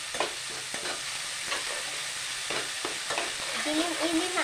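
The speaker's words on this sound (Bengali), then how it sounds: "কাঁচা লঙ্কা দিয়ে নেড়ে নিব একটু ভালো করে" Eggplant and hilsa fish with green chillies stirred in a pan: a soft, continuous sizzle broken by repeated scraping strokes of a spatula, close and moderately loud.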